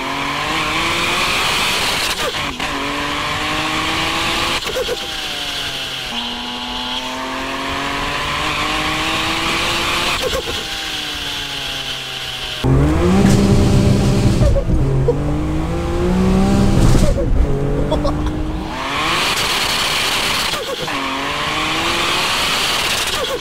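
A boosted BMW M3 E46 accelerates hard through repeated gear changes, each rising engine pitch cut by a shift, loud and close from inside the car, with a brief louder surge midway.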